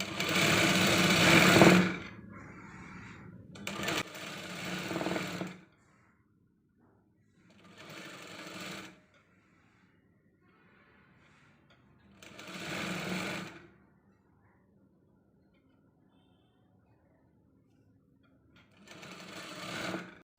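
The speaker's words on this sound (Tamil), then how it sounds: "கழுத்து பீஸ் மடக்கி ஜாயின் பண்ணிட்டு மடக்கி தைக்கிறோம்" A sewing machine stitches folded neck piping onto a round-neck cross-cut blouse in short bursts, four or five runs of a second or two separated by quiet pauses.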